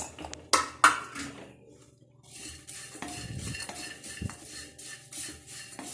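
Poha chiwda mixed with fried nuts in a pan: sharp scattered clinks of a spoon against metal, then softer scraping and rustling of the dry flakes, close and fairly quiet with pauses between strokes.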